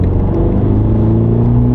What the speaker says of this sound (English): As far as road noise goes, the 230 is not a bad car whatsoever to drive around in on a day-to-day basis.